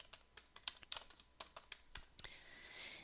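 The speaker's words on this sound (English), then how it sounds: "I'm going to click on the type tool, and I'm just going to type on here moody skies" Keys tapped one at a time on a computer keyboard in short separate clicks, quiet and close, ending in a steadier hiss of activity, while a title is typed in Photoshop.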